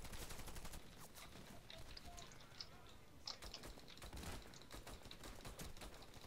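Rapid gunfire from a Warface first-person shooter match, a dense run of sharp shots and mechanical clicks at moderate level over constant game background noise, without voices.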